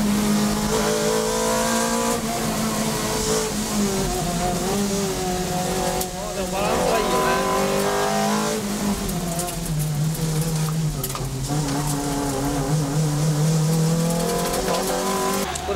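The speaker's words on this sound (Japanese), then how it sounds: "The engine, a Celica 190 horsepower 2ZZ GE. And now we'll see how it performs." Race car powered by a Celica 190 hp 2ZZ-GE engine lapping a track, its engine revving and rising and falling in pitch through the gears, continuous and close, with occasional tire noise and speech over it.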